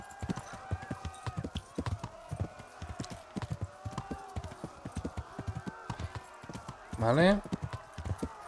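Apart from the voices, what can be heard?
horse galloping in Kingdom Come video game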